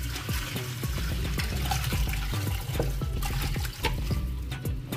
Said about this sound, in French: On va l'égoutter